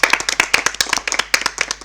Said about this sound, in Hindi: आपके लिए जोरदार तालियां सभी।